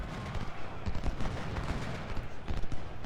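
Rolling gunfire and artillery booms in the Civil War strategy game Ultimate General: Civil War, a dense continuous battle din of overlapping shots at moderate volume.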